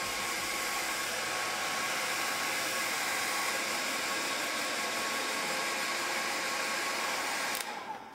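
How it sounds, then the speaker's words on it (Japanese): A hair dryer blows steadily on a watercolour pencil painting, a loud, even, continuous whoosh that holds for about eight seconds before cutting off abruptly near the end. "ドライヤーで乾かします"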